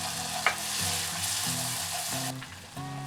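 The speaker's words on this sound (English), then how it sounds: "Put in the crushed ingredients. Briefly stir." Crushed Thai chili jam (prik pao) ingredients sizzle steadily in a pan while being stirred, a close, continuous frying hiss with no talk.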